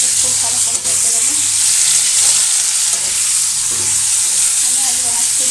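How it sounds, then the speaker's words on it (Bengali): Mango pieces fry with salt and turmeric in hot oil, a loud, constant sizzle running throughout with steady stirring scrapes mixed in. "নুন হলুদ দিয়ে আমগুলোকে খুব ভালো করে ভেজে নেব।"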